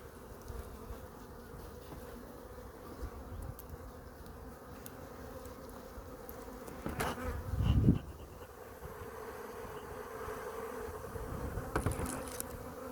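Honeybees buzz steadily around an opened beehive in April as drones are being expelled, a dense continuous hum close by, swelling briefly louder partway through, with no talking.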